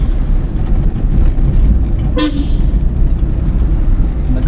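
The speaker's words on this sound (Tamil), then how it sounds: "மறுபடியும் ஹார்ன் அடிச்சிருக்கோம்." A single short car horn toot from a driving-school car sounds over steady traffic rumble, brief and fairly close.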